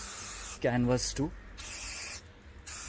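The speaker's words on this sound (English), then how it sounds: "So this car also I'm going to quickly spray it from far off." Checkmate aerosol rodent-repellent spray hissing onto a car, sprayed from a distance, in broadband bursts before and after a brief spoken phrase, with a quieter pause between them.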